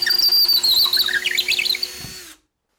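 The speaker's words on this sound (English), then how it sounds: "bore 1/4-inch holes on those marks" A power drill bores 1/4-inch holes into a ceiling through a rail used as a template, a steady high whine running close and loud for about two seconds before stopping abruptly.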